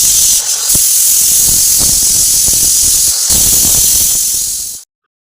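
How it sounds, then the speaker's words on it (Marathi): A pressure cooker holding cauliflower and potatoes for pav bhaji whistles on a gas stove, a loud continuous hissing steam release that runs steadily for almost five seconds, then cuts off abruptly into silence. "आता त्यामध्ये थोडंसं पाणी टाकून आपण कुकरचं झाकण लावून घेऊयात आणि गॅसवरती ठेवून याच्या आता आपण 4 शिट्ट्या काढून घेणार आहोत"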